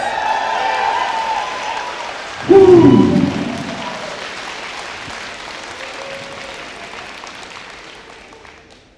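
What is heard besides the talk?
audience applause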